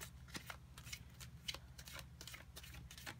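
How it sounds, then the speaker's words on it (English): Rapid riffling and soft slaps of cards being shuffled, several quick bursts in a steady rhythm, close and fairly quiet. "I'm going to shuffle a little bit more."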